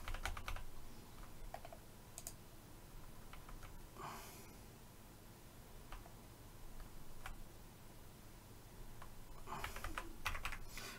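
Computer keyboard keys pressed during a Photoshop drawing session, sounding as scattered sharp clicks in small bursts with quiet gaps, close and fairly soft over a low steady background hum.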